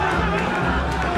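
A French crowd roars and chatters at a chessboxing fight, a dense continuous swell of voices heard under a commentator's speech.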